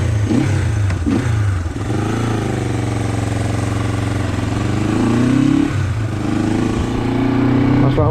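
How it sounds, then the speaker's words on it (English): A Honda CL450 motorcycle that has not been run for a year runs close by with a steady, throbbing engine note, then revs up and settles back again. "let's crank up the bike and we'll go for a wee ride down the valley."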